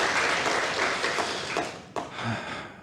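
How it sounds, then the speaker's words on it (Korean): Congregation at a Sunday church service applauding the choir, a dense wash of hand claps that holds steady and then thins out near the end. "우리 찬양대를 격려하고 하나님께 영광 돌리도록 박수로 한번 격려해 주시면 감사하겠습니다"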